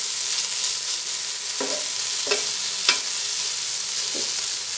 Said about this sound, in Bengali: তেল দিয়ে কিছুক্ষণ নেড়ে চেড়ে নেব